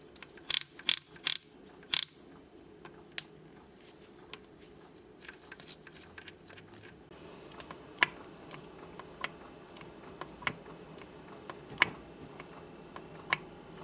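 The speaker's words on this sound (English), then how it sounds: "Now we can check that the Kickstarter disengage mechanism works properly" Kickstarter disengage mechanism being tested on a Suzuki DR350SE motorcycle engine on the bench: a few sharp metallic clicks and ticks, quiet and close, clustered at the start and then scattered irregularly over faint background noise.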